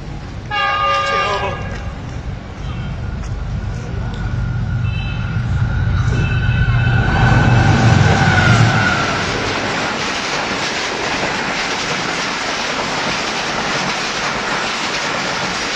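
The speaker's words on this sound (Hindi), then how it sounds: "ये वीडियो 16 डाउन कराची एक्सप्रेस की है, जो कानाकाचा फ्लाईओवर से पास हो रही है।" The 16 Down Karachi Express crosses a flyover: a loud horn sounds at the start, then a long, close, steady rumble and clatter of passing coaches, with faint voices underneath.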